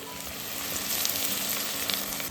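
Oil sizzles steadily in a pan while frying for begun bharta, an eggplant mash, a close, even crackling hiss that continues unbroken throughout.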